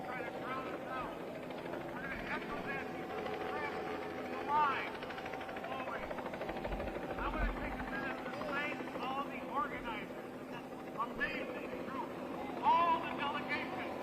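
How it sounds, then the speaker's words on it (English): A helicopter flying low overhead during a street protest in Chicago, its steady rotor drone continuous and prominent while people talk and chant nearby. "this helicopter's flying so low"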